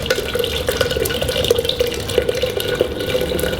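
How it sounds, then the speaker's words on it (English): Hot water poured into a glass container, a close, bubbling pour with irregular splashy gurgles over a steady liquid rush, continuing throughout. "First, you pour the hot water into the container."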